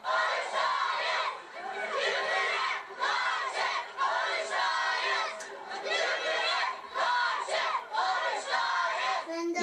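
A large crowd of marchers shouts anti-profanity slogans in Turkish in unison, loud rhythmic chanting repeating in waves with chatter between phrases, during a street march in Bolvadin, Turkey.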